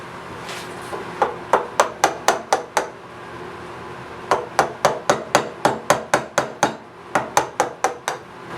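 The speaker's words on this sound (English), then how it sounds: "I might try to chisel that down a little bit." Steady rhythmic mallet strikes on a chisel cutting into a log, two runs of about eight sharp knocks each, separated by a short pause.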